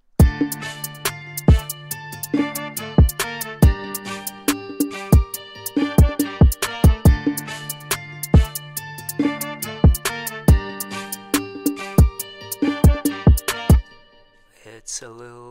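A rhythmic beat of plucked guitar chord stabs and punchy drums with percussion repeats steadily, with a brassy horn sample layered in, ending with a brief fading tail.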